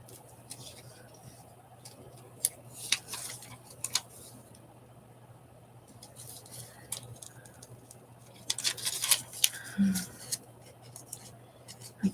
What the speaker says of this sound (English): little orange pair of scissors